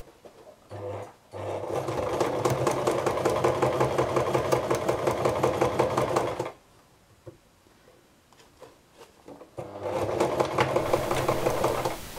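A sewing machine stitches the seam of a fabric face mask in two long rapid bursts of steady buzzing, separated by a few seconds of quiet with light handling noises, then a brief third run at the end.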